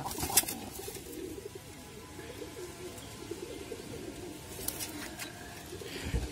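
Pigeons coo steadily in a rooftop loft, a low continuous murmur of soft calls with a few brighter chirps, heard close and fairly quiet.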